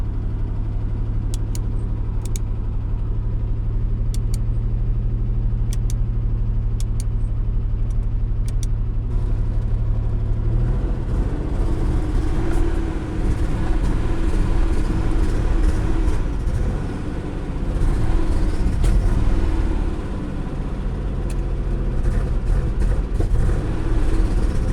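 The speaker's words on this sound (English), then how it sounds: "This is the first time the car ran after a week of fiddling with it after I got it." A 1984 Nissan 300ZX Turbo, newly fitted with a fuel pump and ignition, runs after long neglect, a low steady idle rumble with a few faint clicks early on, then a louder, rougher engine roar that swells and dips for the rest.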